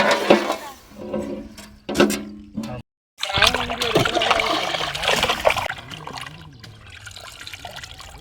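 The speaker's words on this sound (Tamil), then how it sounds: "மஞ்சத்தூள் போட்டு கொஞ்சம் ஒரு அலசி எடுத்துக்கலாம், கழுவிக்கலாம்." Freshly caught viral (snakehead murrel) fish being rinsed by hand in turmeric water, with close splashing and trickling in uneven bursts, a brief silent gap, then steady sloshing and dribbling.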